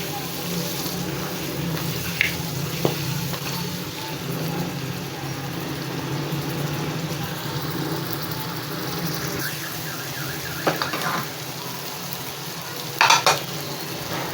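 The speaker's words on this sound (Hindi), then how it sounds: "पाँच मिनट तक इसको भून लेंगे। जितना मसाला, जितनी ग्रेवी अच्छे से भुनी जाएगी" Masala gravy for matar gosht fries in a pan while being stirred, a soft continuous sizzle with scraping spoon strokes and a few sharp clinks of utensil against metal, close by and moderately loud.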